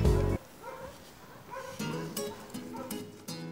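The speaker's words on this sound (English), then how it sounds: "Can you hear the dogs? I think they're getting closer." Several dogs bark and yip in a forest in Småland, Sweden, sounding fairly distant in a run of short, irregular barks over quiet ambience, with no talking.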